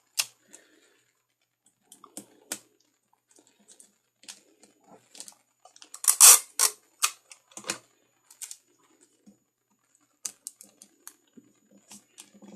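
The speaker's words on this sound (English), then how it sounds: "I'm going to use the tape to secure it" Clear plastic tape being pulled and pressed down to secure handmade soap packaging, with a cluster of crisp crackling, tearing noises near the middle and scattered lighter clicks and rustles before and after, close and fairly quiet.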